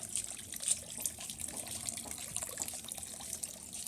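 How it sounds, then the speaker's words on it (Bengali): Water runs outdoors into a basin set out for washing clothes in the sun, a faint continuous splashing trickle with a hissing, bubbly texture. "আমি এই যে বাইরে আছি রোদরে জল ভরছি"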